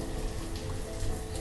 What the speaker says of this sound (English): Bit of rain in the spring.